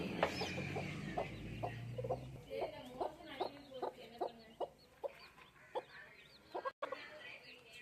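Brooding hens clucking in a series of short, evenly spaced calls, fairly close, over a quiet background with a faint voice at the start.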